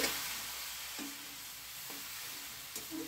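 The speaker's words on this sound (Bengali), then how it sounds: "এবার এটাকে একটু ভালো করে নেড়ে চেড়ে দিচ্ছি" Spatula stirring masala and gobindobhog rice with raw jackfruit in a sizzling pan, with a steady frying hiss and a few soft scraping strokes at roughly one-second intervals.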